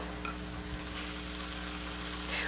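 Chicken breasts fry in a pan over high heat, giving a steady, close, dense sizzle with no talking.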